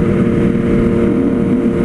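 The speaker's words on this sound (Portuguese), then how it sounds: "que tinha um ronco esportivo, mas não tão alto." A steady, close Yamaha MT-09 motorcycle idle with a deep, throaty aftermarket exhaust rumble, even and continuous with no revving.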